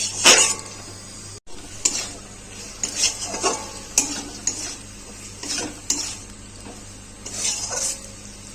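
Vinegar-marinated chicken is stir-fried in a pan for egg chicken tadka, with irregular spatula scrapes, clanks and clinks against the metal over a quiet background sizzle.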